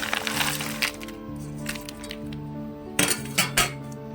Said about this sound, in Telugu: చిక్కుడుకాయలన్నీ ఈ బౌల్లోకి వేసుకుందామండి.